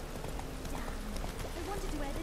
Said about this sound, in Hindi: भाई पूरी सिटी में कोई घोड़ा नहीं चला रहा, बस मैं ही चला रहा हूँ।